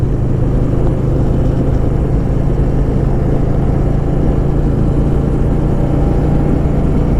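A Harley-Davidson Softail Deluxe motorcycle cruises down historic Kearney Boulevard in Fresno, California, its engine a loud, steady low rumble mixed with constant wind roar, unbroken and close throughout.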